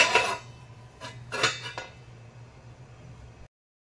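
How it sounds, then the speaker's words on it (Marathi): A metal lid clanks onto a kadhai holding coconuts set to boil, two or three close, bright clinks and rattles in quick succession, then a faint low hum until it cuts off. "त्याला झाकण लावायचे"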